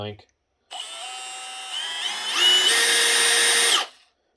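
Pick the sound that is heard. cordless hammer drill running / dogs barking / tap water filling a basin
cordless hammer drill running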